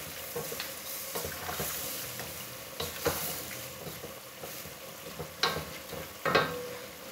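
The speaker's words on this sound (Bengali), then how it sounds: "একটু নাড়াচাড়া করে নিই।" A spoon stirs curry in a frying pan, with scraping clatter and a few sharper knocks over a steady soft sizzle, close by and fairly quiet.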